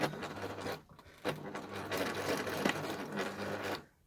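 A sewing machine quilts fabric for four pouches of a hanging organiser, running in a steady close mechanical whir with brief pauses between stitching runs.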